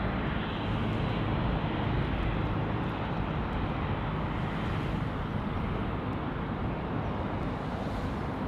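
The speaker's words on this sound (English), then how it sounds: "The A321neo from Jetstar in the lovely new livery there." A Jetstar Airbus A321neo airliner at Sydney Airport gives off a steady, broad roar of engine noise that holds loud and even throughout, with no voices over it.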